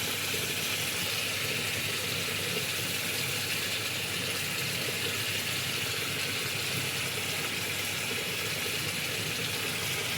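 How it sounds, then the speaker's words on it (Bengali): Water poured steadily into a pan of loitta fish curry being cooked, a continuous broadband pouring rush lasting the whole stretch at moderate level with no talk. "এই যে জল দিয়ে দিলাম।"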